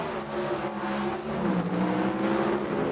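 A pair of 1970s Pro Stock drag racing cars, one a four-door Maverick, launch from the line with a loud, rising engine roar that climbs in pitch, dips briefly, then surges again as the cars pull away.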